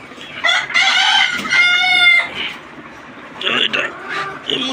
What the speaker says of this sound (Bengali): মুরগিগুলো চিল্লাচিল্লি করতেছে, হয়তো বা ডিম পারছে